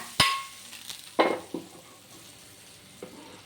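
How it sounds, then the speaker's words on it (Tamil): Cashews frying in a hot pan for milk kozhukattai, a few sharp sizzling bursts and clinks spaced apart, close and fairly loud, fading to quiet between them. "முந்திரி வறுத்து போட்டுக்கலாம்."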